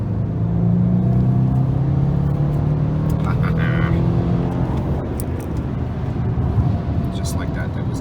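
A 2007 BMW 650i accelerates hard along the road, its engine note climbing steadily before giving way to a loud, continuous rush of road and wind noise, heard from inside the car.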